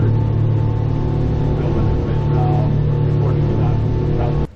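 A shuttle boat engine running steadily at the dock in Seward, Alaska, a loud constant low hum and drone close by that cuts off abruptly at the end, with no talk.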